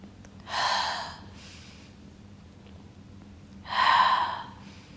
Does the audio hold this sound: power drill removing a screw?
no